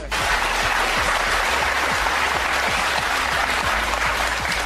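Sustained, dense applause from a large audience at a panel debate, steady and loud throughout with no talking over it.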